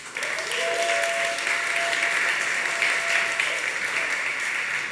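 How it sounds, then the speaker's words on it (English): Audience applause at a Wix eCommerce product presentation, a steady, full wash of clapping from a large crowd lasting the whole stretch at even loudness. "Applause, guys."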